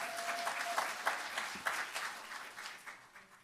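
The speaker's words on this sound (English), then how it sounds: "We're still going to clap for him, even though he's not here today." A city council meeting audience claps in a dense, fairly even patter, a few sharper claps standing out before the applause begins to thin toward the end.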